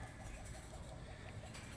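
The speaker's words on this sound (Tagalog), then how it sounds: "tingnan nyo mga ibon" African birds call and coo faintly in a steady, noisy outdoor setting, soft repeated notes buried in a low background hum.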